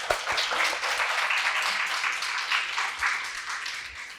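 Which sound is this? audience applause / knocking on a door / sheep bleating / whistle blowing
audience applause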